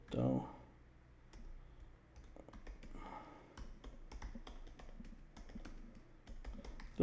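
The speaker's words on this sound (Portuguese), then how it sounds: "Então ele clica com o botão direito do mouse" Mouse clicks on a computer during a software tutorial, a few sharp taps spread through the stretch alongside keyboard-like clicking, with a voice talking over a quiet background.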